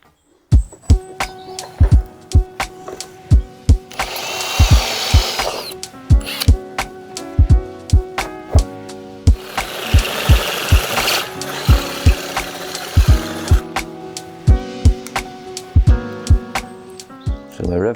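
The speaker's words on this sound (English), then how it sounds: "we'll drill some holes here, put an M8 riv nut on each side" A power drill bores holes for M8 rivnuts on a Triumph Trident 900 motorcycle, loud whirring bursts that start and stop repeatedly with sharp clicks and clunks between them, close up.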